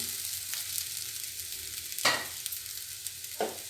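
Sabudana pulao with vegetables is stirred in a pan over a soft frying hiss, with three distinct scraping strokes, the middle one strongest; no speech.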